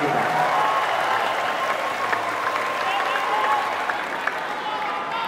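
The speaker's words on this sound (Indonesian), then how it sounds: "Tepuk tangan untuk para pejuang reformasi kita." A crowd of volunteers at a political rally in Indonesia applauds the fighters of the reform movement, with sustained dense clapping and crowd noise that stays loud and even throughout.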